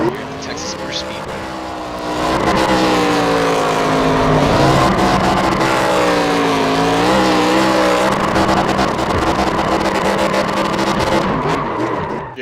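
A race car engine in iRacing at Texas Motor Speedway drones loudly and steadily, revving up and down with faint tire squeal as the car rolls toward the start-finish line, with a voice talking over it.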